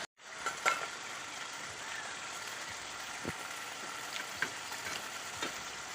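Chopped tomato hits a hot pan of spices for a vegetarian curry, setting off a soft, even sizzle with a few sharp utensil clinks and scrapes along the way.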